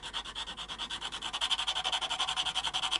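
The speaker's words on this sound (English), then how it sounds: "we can get the sawdust sandpaper out again, and we can take it back to the top of the nut" Sandpaper rubbed back and forth over the top of a guitar nut on a Tokai Firebird, a steady rhythmic scratching of even strokes, close and alone.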